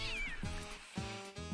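A cat meows in a few drawn-out, wavering calls over a steady hum and background noise, moderately close and not very loud.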